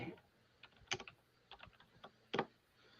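Faint computer keyboard typing, a few scattered keystrokes and short bursts of clicks, quiet and close with a low background hum.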